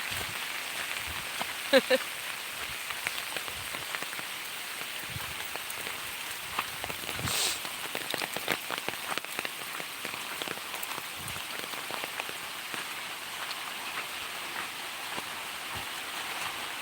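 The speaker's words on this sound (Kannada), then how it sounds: "ಮುಸಲಧಾರೆಯ ಮಳೆ ಅಂತ ಹೇಳ್ತಾರಲ್ಲ," Heavy monsoon downpour drumming steadily on surfaces around a village farm garden, a dense continuous hiss with scattered louder splashes and brief faint voices.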